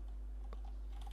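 Fingers tapping a few keys on a computer keyboard in a coding setup, brief scattered clicks close to the microphone over a steady low electrical hum.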